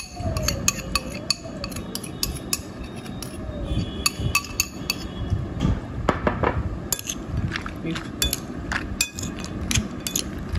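A spoon clinks and scrapes against a bowl as a cashew nut salad, tossed with roasted cashews and a paste, is stirred in quick, irregular strokes close by.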